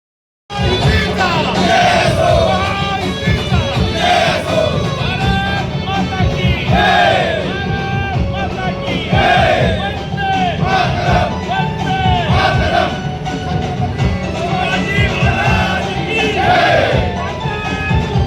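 A celebrating crowd in a city square in Sinnar roars and chants in loud, sustained waves with rhythmic shouting throughout, marking a minister's swearing-in.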